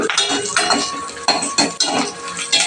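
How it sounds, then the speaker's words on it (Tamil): Metal spatula clattering and scraping in a pan as small shallots and dried red chillies are sautéed for a chutney, close and fairly loud, with repeated knocks and scrapes and a faint sizzle underneath. "ஒரு 5-6 சின்ன வெங்காயம், 3 வரமிளகாய், இதை போட்டு நல்லா வதக்கிக்கோங்க."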